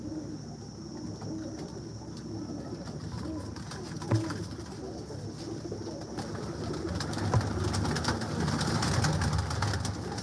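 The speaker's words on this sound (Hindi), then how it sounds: "ऊपर स्क्रीन पे आप हंसराज देख रहे हैं कबूतर" Hansraj breed pigeons in a breeder's loft coo steadily in low, murmuring tones for the whole stretch, blended into a busy bed of nearby ambient noise with no talking.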